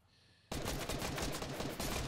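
Sudden burst of rapid automatic gunfire in Fortnite, loud and continuous after a quiet start, shots rattling in quick succession.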